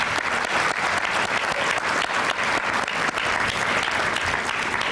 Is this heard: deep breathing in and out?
no